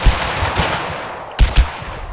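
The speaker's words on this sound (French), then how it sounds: "Ils vident leurs balles sur moi." Automatic gunfire in the online battle royale game Totally Accurate Battlegrounds, with two quick bursts of close, sharp shots about a second and a half apart that ring out alone over a low game background.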